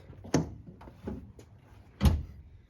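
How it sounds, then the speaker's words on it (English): A 2007-2013 Toyota Tundra pickup's tailgate is opened, giving a few dull metallic clunks and latch knocks, with a sharp thud at the start and another heavier thud near the end, close by and without speech. "First, open the tailgate."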